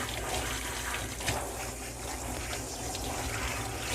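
Water runs steadily while dye is rinsed out of a dog's bleached and dyed coat, a continuous splashing wash with no talking.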